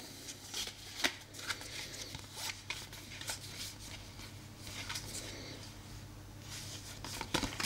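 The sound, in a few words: handling cards from the Wild Assent board game box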